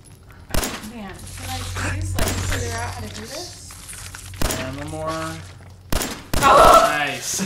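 Gunfire in the video game Fallout 4, several sharp shots and bursts scattered through the clip under continuous speech from players.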